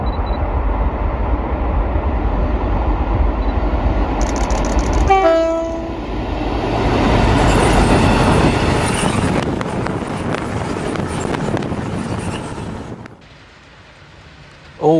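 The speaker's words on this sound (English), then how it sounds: "The following clip will have some sound dubbed of a Class 60 passing with a horn and some MGR wagons following it behind." A Class 60 diesel locomotive passes close and loud, sounding a brief horn, followed by a long rumbling run of MGR wagons with rhythmic clatter before it cuts off abruptly.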